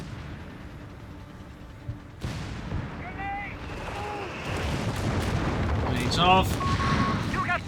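Artillery barrages rumble through a Company of Heroes 3 multiplayer match, with dense, continuous booms and blasts layered together and swelling louder toward the end, while commentators talk over the battle.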